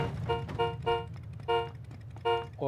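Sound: car horn honking in PUBG video game

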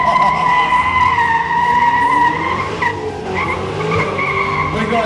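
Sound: ute burnout with skidding tyres and smoke

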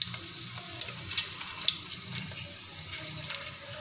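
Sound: papad deep frying in hot oil

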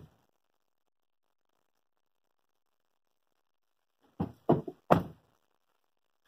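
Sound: car door closing on a Ford Edge

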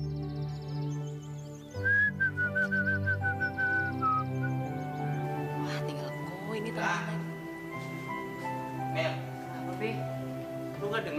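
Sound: person whistling to imitate a bird call

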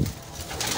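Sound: breeder pigeons cooing

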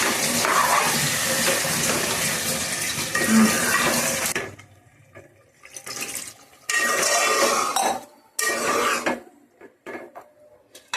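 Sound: pouring water into cooking pot

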